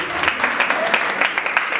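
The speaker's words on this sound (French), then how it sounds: "Je veux vous demander d'applaudir encore très fort pour le séjour de Dieu." Audience applause at a church gathering in a hall, a dense, steady wash of many hands clapping at moderate loudness for the whole stretch, with no voices rising above it.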